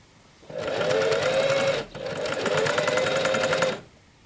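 A sewing machine stitches the side seams of homemade climbing pants in two loud, steady runs of motor whir, split by a short pause.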